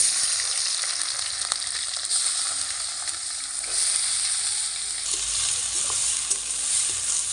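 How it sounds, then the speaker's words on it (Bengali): Steady, close sizzling of onion frying in oil, a dense hiss with occasional faint clicks of a utensil stirring, no voices. "পেঁয়াজটা ভাজা হোক"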